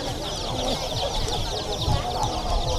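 Chickens cluck repeatedly at a busy village market in Ubon Ratchathani, Thailand. The steady clucking sits among a dense, noisy crowd, and a voice can be heard talking nearby.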